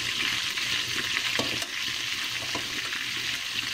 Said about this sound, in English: I'll be using my spoon to flip it because I don't want it to break.